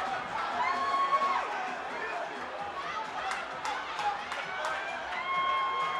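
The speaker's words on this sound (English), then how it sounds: "Great crowd here" A boxing crowd at the Commerce Casino murmurs and cheers in a steady moderate roar with scattered shouts and whistles, under a commentator's voice.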